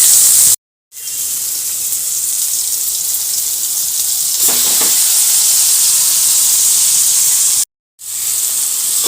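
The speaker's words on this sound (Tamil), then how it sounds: "இது கூட ஊற வச்ச சிக்கனை சேர்த்துக்கலாம்." Marinated chicken goes into a pan of sizzling onions and tomatoes for Chettinad chicken biryani, making a loud, steady hiss and sizzle with brief stirring clatter midway and short silent gaps near the start and end.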